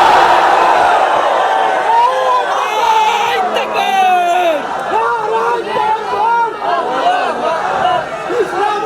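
A large crowd at an Islamic religious gathering loudly chants the takbir, Allahu Akbar, in a unison of many overlapping voices.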